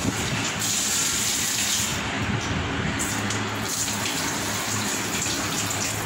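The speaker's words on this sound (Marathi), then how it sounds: "एकदा स्वच्छ सगळं एकत्र धुवून घेऊया आणि पाणी उपसून टाकूया ह्याच्या ताटात।" Fish for frying is rinsed under a running kitchen tap, the water gushing steadily and close by for the whole stretch with no voices.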